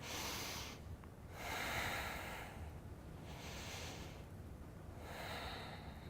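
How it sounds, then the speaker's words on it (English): Deep, full breaths during a yoga lunge, slow rhythmic inhales and exhales repeating about three times, close and fairly loud with breathy hiss and no talking. "let's take 3 more deep, full breaths"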